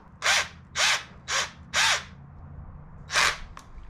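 A power drill drives screws into a DIY paddle clip for a 2020 Hobie Pro Angler 12 kayak, with five short whirring bursts in a row, close and clear, and quiet gaps between them.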